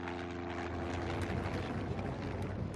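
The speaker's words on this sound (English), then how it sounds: "Another foreign aircraft breaches Soviet airspace." A Cessna light aircraft flying overhead, a steady droning propeller engine filling the scene, continuous and fairly close with no talk.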